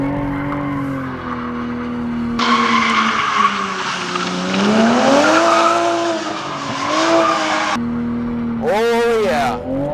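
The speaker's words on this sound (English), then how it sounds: "Also, they say you can drift this car." A 2020 Toyota Supra drifts on the road with loud, sustained tire squeal and a revving engine, the screech rising and falling for several seconds while people talk over it.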